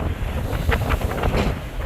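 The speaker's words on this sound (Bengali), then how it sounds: "নদীতে প্রচণ্ড ঝড়ো বাতাস বলতে গেলে কালবৈশাখী ঝড়ের মতো বাতাস" A strong, gusty storm wind over a river roars and buffets the microphone, with rushing water beneath. The noise is loud and continuous, and no voices are heard.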